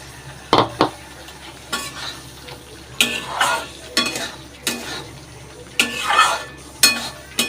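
Poppy seed paste is stirred and fried in a pan, with a rhythmic series of scraping strokes of a utensil over a soft background sizzle.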